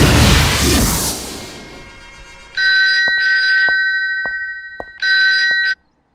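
An old-style telephone bell ringing in two loud bursts of shrill electronic trill separated by a pause, following a fading wash of background sound, near and unaccompanied by speech.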